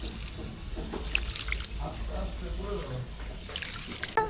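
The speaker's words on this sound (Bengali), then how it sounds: "এইভাবে ধুয়ে নেব, আপনারাও খুদটা এইভাবে ধুয়ে নেবেন। খুদ এইভাবে ঘুরাইয়ে ধোবেন" Broken rice is swirled and washed by hand in water under a running tap, with sloshing and splashing over a steady close trickle and a few brief clatters.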